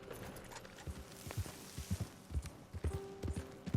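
A horse walks in Red Dead Redemption 2, its hooves clip-clopping in a steady, moderately close rhythm over a low ambient bed.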